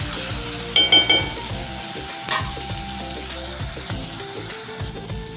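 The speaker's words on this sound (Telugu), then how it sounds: "అది వేగుతున్నప్పుడే 1 టేబుల్ స్పూన్ అల్లం వెల్లుల్లి పేస్ట్ వేసి మగ్గనివ్వాలి." Ginger garlic paste fries in a pan for a potato tomato gravy curry, giving a steady close sizzle with a brief burst of louder crackling and some stirring scrapes early on.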